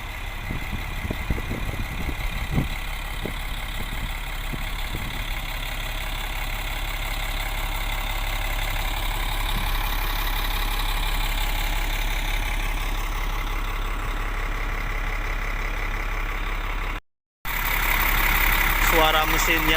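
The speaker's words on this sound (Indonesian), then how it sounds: "Suara mesinnya ini teman-teman" An 18-metre Mercedes city bus in Riyadh idles with a steady, droning engine rumble that holds nearly unchanged throughout, close and continuous, briefly cutting out near the end.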